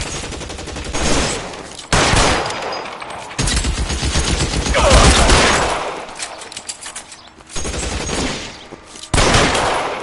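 A shootout in L.A. Noire: loud bursts of rapid gunfire come in several separate volleys with short gaps between them, close and dominant, with no talking.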